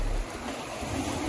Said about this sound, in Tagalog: Medyo malakas na yung alon